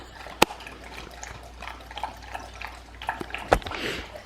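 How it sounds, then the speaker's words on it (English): Two golden retrievers lapping water from a bowl indoors, heard as faint scattered drips and wet splashes in the background, with two sharper louder splashes standing out. "excuse the dogs drinking in the back"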